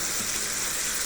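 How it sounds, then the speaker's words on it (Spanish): Broth is poured into a pan of risotto in a steady, continuous watery gush, close and unbroken for the whole moment. "Caldo, vamos a ponerle un poco"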